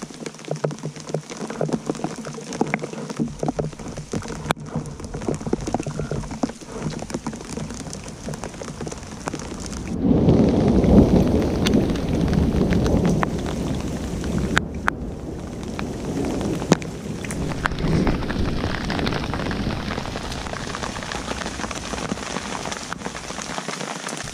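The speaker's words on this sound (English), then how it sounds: "skies open up again with rain and starts a thunderclap again" Rain pours on a canoe trip at a wilderness campsite during a thunderstorm, a dense steady patter that swells into a heavy, loud rumble of thunder midway and then keeps rolling on under the downpour.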